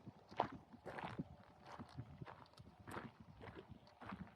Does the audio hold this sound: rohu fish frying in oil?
no